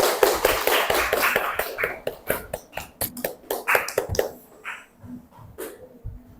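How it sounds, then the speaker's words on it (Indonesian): A small group of students clapping in a classroom, a short run of distinct, fairly close hand claps that thins into a few scattered claps and then stops. "Ya, sini tepuk tangan."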